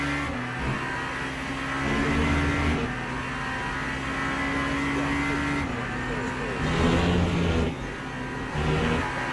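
Race car engines in Le Mans Ultimate, a steady buzzing drone with shifts and revving surges as gears change, heard up close over a continuous rush, with someone talking on top.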